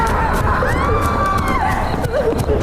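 Villagers, a man and his wife, scream as they rush out of their house at night in a village, loud wavering cries over a dense, continuous crowd-like noise bed.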